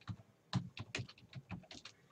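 Typing on a computer keyboard produces a quick run of soft, separate key clicks at an uneven pace, close but quiet, with no voices.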